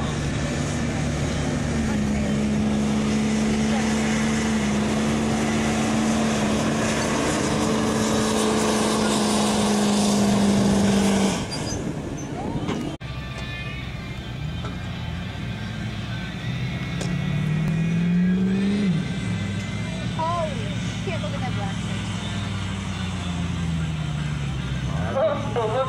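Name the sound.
double turbo diesel truck engine at truck pull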